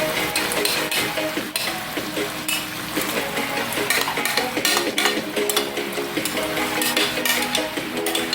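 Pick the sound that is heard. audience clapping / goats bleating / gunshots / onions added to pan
onions added to pan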